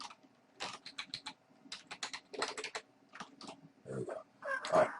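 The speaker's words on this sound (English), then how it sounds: "I was thinking and I typed it in wrong, so let's do this." Rapid bursts of keystrokes on a computer keyboard while entering programming code, irregular clusters of clicks with short pauses between, close and fairly quiet, with no talking.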